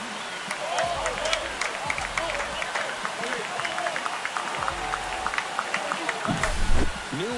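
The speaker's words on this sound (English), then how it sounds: "That's exactly what this crowd wanted to see in this spot." A stadium crowd in the MLB The Show 25 baseball video game roars and applauds after a home run, a broad, steady wash of cheering with a commentator talking over it.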